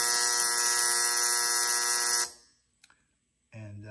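A Brunswick bowling lane foul detector buzzer sounds a loud, steady electronic tone for about two seconds, cuts off into near silence with a small click, then a lower hum begins.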